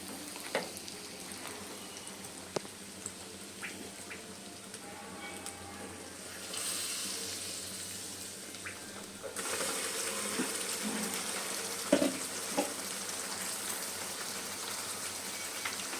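Ground tomato frying in oil for tomato pickle: a steady soft sizzle that swells into a louder, hissing fry after the paste is added, with a voice speaking quietly over it.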